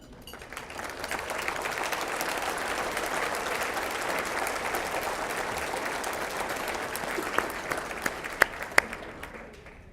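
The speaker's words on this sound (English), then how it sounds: "Bill, can I ask you to stand for a round of applause?" An audience at a city State of the City event gives a sustained round of applause, dense clapping that swells quickly, holds steady, then thins out with a few last isolated claps.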